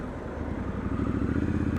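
A 2019 Triumph Scrambler 1200 XE motorcycle on a test ride, its engine giving a steady low rumbling drone with wind noise that swells slightly louder partway through.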